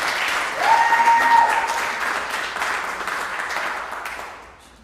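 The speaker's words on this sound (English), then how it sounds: "please give Bailey some applause" An audience at a university music awards event breaks into applause for a middle school student, a dense wash of clapping that swells quickly, holds for a few seconds, then fades out.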